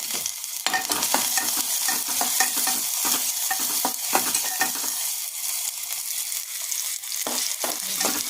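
Chopped onion sizzles loudly in hot oil as it is sautéed until pink for a black-eyed pea bhaji, with repeated close spatula scrapes and stirs against the pan.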